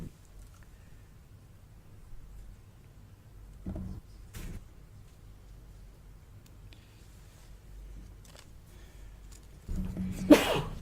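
A sudden sneeze bursts out near the end after a long stretch of quiet ambience in a town council meeting room, with a few faint knocks.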